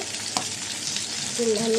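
Pangas fish frying in oil in a pan: a steady, close hiss of sizzling with a light stirring scrape, alone without talk.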